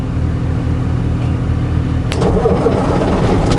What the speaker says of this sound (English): Good, they're starting up their cars.